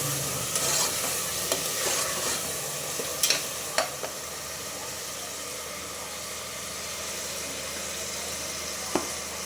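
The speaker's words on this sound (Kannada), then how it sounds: "ಅವರೆಕಾಳನ್ನ ಸ್ವಲ್ಪ ಹಾಕ್ತಾಯಿದ್ದೀನಿ. ಸ್ವಲ್ಪ ಫ್ರೈ ಆಗಬೇಕು." Field beans (avarekalu) fry in a hot pan with steady background sizzling, while a spoon scrapes and stirs them in several sharp clinks and scrapes; no talking.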